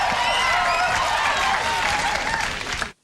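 Audience applause from a played recording comes through as a loud, dense wash of clapping that stays steady, then cuts off abruptly into silence near the end.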